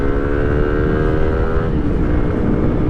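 Motorcycle fitted with a Qala Performance racing exhaust being tested, a steady, loud, close engine drone with harmonic tones, holding constant throughout.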